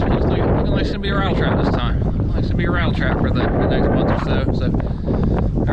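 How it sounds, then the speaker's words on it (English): Strong wind buffets a microphone on a fishing boat on a cold-front day, a loud continuous roaring rumble with someone talking throughout. "Apologize for the wind."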